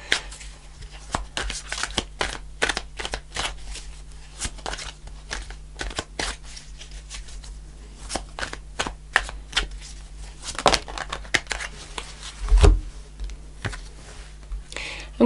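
Tarot cards being shuffled in a quiet room during a reading, a long run of soft papery riffles and snaps with a few sharper clicks, close and steady, with no voice over it.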